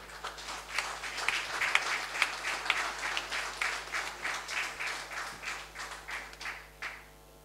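A crowd applauds steadily for several seconds, with a few individual claps standing out, then the clapping fades away.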